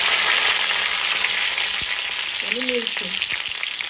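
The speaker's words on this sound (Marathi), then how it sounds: "बरे तरेन फ्राय करून घेऊया" Bay leaf and chili frying in hot oil give a steady, close sizzle that runs the whole time, with a brief spoken phrase and a few light clinks partway through.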